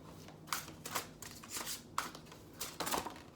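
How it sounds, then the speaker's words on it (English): Tarot cards are shuffled by hand in a quiet room, producing repeated close, crisp riffling bursts in an uneven rhythm, with no voices. "The shuffling takes a little while."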